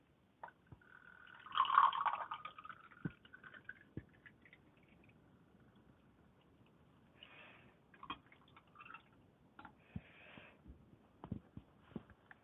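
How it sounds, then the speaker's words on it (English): Raspberry lemonade pours into a rocks glass over ice for a cocktail, a short faint liquid gurgle near the start followed by quiet drips and light clinks in an otherwise hushed setting. "we're going to take 2 ounces of our raspberry lemonade."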